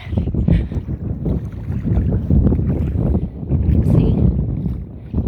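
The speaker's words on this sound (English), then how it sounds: "It's very windy" Strong wind buffets the microphone at the shore during a seining outing, a continuous loud low rumble that stays heavy throughout with brief gusts.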